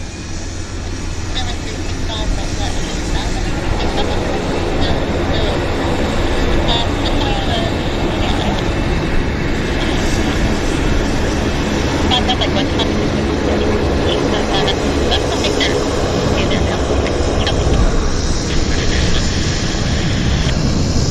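Air Canada flight 236 accelerating down the runway at Vancouver airport produces a loud, unbroken jet roar that holds steady and builds slightly over about twenty seconds.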